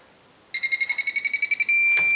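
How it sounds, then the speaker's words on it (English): A quick series of about a dozen short electronic trim beeps from a radio control transmitter, then a sustained long beep tone at center, close and clear against a quiet background. "you can hear short beeps or a long beep when it's in the center"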